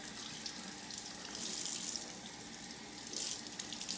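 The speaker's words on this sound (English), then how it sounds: "put your elbow close to the water and let everything run off your hand this way" Water runs from a tap while hands are rinsed, elbows held close to the stream, a steady, close hiss with two brief louder surges of splashing, with no talk.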